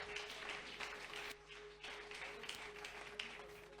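An audience at a church charity event applauding for Jesus Christ, a continuous faint patter of clapping with a steady tone running underneath.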